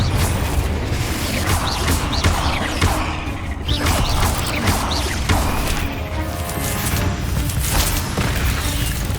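A Confringo fire spell in the video game Hogwarts Legacy bursts into a series of loud, close booms and crashing blasts with whooshing debris, dense and continuous throughout.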